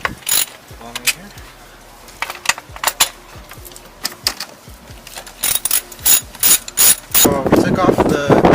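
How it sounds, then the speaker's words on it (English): A ratchet with a 12mm socket removes bolts on a Mazdaspeed 3 high-pressure fuel pump, clicking in short bursts of rapid pawl ticks separated by pauses, close and crisp, with metallic clinks between. "these are going to be taken off with a 12mm socket"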